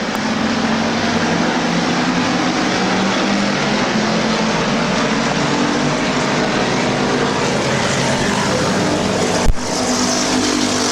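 Stock cars roar around Midvale Speedway in a continuous loud engine drone, one car smoking but still running, with a sharp thump near the end.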